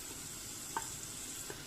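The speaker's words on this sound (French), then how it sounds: "Je vais rajouter mon beurre dans la casserole" Butter melts in a saucepan with a soft, steady sizzle, punctuated by a few faint clinks of a utensil against the pan.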